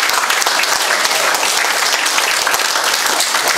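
Dense, sustained applause from an audience at an award ceremony honoring outgoing and incoming association leaders, steady and full throughout with no pauses.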